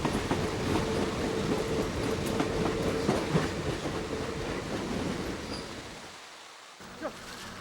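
Freight train cars loaded with timber rolling along a riverside railway by the Yalu River, a steady rumbling clatter with faint wheel squeal that fades toward the end.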